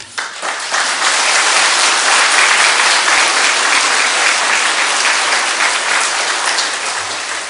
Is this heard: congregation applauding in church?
yes